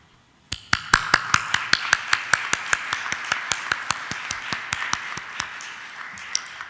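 Audience applause at a diplomatic gathering, beginning suddenly and settling into sharp, evenly spaced unison claps that carry on for several seconds, close and crisp, with a softer crowd clatter underneath.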